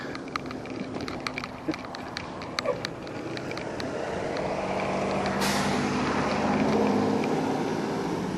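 School bus stopping in traffic: a heavy engine idles under clattering ticks, then a sharp hiss of air brakes releases midway and a broad diesel rumble swells and holds to the end.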